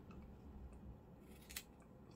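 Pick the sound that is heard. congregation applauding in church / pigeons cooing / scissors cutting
scissors cutting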